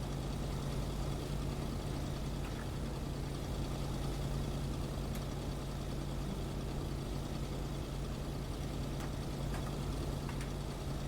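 A truck engine idles in the video game Kona, a steady low rumble that holds evenly throughout, close by and alone with no talking.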